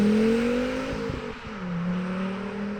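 A high-mileage Volvo S60R fitted with an IPD oval tube exhaust revs up and settles back, its deep steady drone rising and falling close by with no talking.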